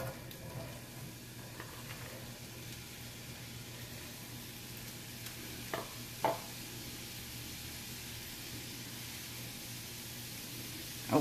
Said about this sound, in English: I will start out with my onion, and I will let it fry